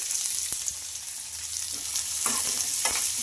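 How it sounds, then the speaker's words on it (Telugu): Onions, green chillies and fennel seeds fry in a hot pan for a moong dal dish, giving a steady close sizzle broken by scraping stirs, with no talking. "ఇంకా ఇవన్నీ వేసేసుకొని బాగా ఫ్రై చేసుకోవాలండి."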